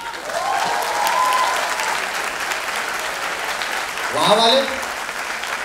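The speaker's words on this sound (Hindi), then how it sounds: "तालियां इतनी बजाते हैं क्या आप लोग?" Audience applause fills a hall at a college short film competition, steady clapping from a crowd with someone speaking over it.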